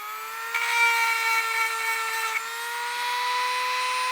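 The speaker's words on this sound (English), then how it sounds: "I'm gonna go ahead and continue to grind with this right here" A diamond sharpener grinds a chainsaw gullet with a steady high tonal whine from a small power tool that holds a constant pitch, with a brief rasping burst where the bit bites into the metal.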